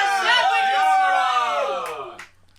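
A small group of people mimics a roaring crowd cheering, drawn-out whooping and yelling voices that rise together and then fade away into a brief quiet.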